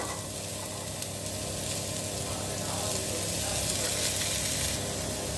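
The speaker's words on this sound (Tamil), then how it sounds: "நல்லா எண்ணெய் விட்டு வதக்கிட்டு வேணும்." Pirandai (adamant creeper) sautéing in oil gives a steady, close sizzle and frying hiss across the whole stretch, with faint stirring scrapes underneath and no talking.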